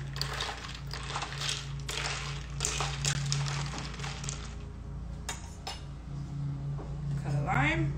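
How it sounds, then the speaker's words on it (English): A spoon stirs a Moscow Mule cocktail, with ice clinking and rattling against the glass in bursts, close and moderately loud, followed by a few lighter taps. "And we're going to give it just a stir."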